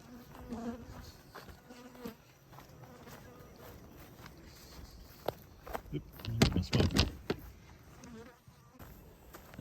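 Honey bees buzz around beehives at a bee yard, a faint, steady drone with occasional closer passes, alongside footsteps, rustling and handling noises that swell into a louder burst of clatter near the end.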